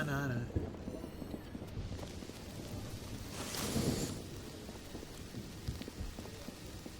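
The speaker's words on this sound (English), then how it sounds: "Raining all over the world tonight." Rain falls in the fantasy management game Mind Over Magic, a steady wash with a single rolling thunder burst midway, while a person talks over it.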